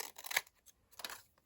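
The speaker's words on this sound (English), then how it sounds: "Let's just cut it off. So leaning my scissors next to the edge of that" Scissors snipping a paper tag on a handmade vintage library pocket, two short close cuts separated by a brief pause.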